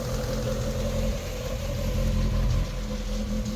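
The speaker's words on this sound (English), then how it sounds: "Is that why it's revving high?" A Rover 25 GTI engine with a high, rough idle fault runs at a steady, somewhat raised idle, a continuous low hum with a faint tonal whine and no voices.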